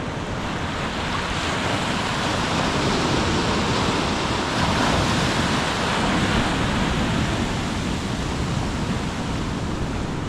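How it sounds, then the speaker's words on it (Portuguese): High-tide ocean waves wash over a small beach at Arraial do Cabo, with a dense, continuous roar of surf that stays loud throughout, mixed with wind noise on the microphone. "Mas quando vem a onda, toma conta aqui da prainha toda."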